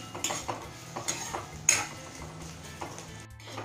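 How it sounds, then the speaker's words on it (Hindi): Chopped onion and a green chili being stirred and fried in a pan for an onion curry, with repeated utensil scrapes and clinks against the pan over a low background, no talk. "एक हरी मिर्च, और इसे हम अच्छी तरह से पहले भून लेते हैं।"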